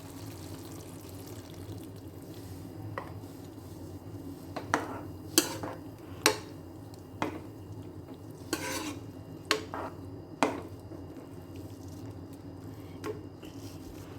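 Thick coconut milk goes into a potato stew in a pot, with soft pouring and stirring sounds and several sharp clinks of a spoon against the vessel over a low background hum.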